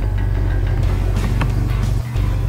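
A Dodge Challenger R/T Super Track Pack driving along Route 370 through the Laurentians, its engine giving a steady, loud low drone with road noise throughout and a brief dip near the end.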